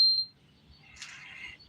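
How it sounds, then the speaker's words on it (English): An LG refrigerator's control panel gives a single short, clear electronic beep at a button press, followed by quieter faint rustling. "So you push it once, it beeps."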